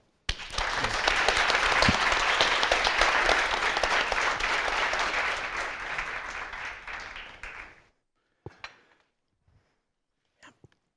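A conference audience applauds a panel at a business event, steady dense clapping lasting about seven seconds before fading out, followed by a few isolated faint knocks and shuffles.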